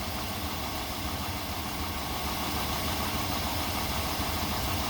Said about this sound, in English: Now with the engine running, we're gonna test the battery again.